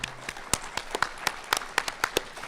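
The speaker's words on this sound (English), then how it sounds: "I want y'all to give a big round of applause." Sparse, scattered claps from a small audience applauding actor Sam Witwer at a fan event, a few distinct hand claps spaced irregularly rather than a full ovation.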